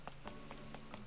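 Animal Crossing rain, a gentle continuous patter under four evenly spaced soft chime-like taps and a low steady tone, quiet and close.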